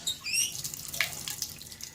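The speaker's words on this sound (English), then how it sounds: "We're going to put some warm water in it." Warm water runs and splashes into a cast iron Dutch oven being cleaned the day after baking a cake, a short gurgling pour close by and fairly quiet.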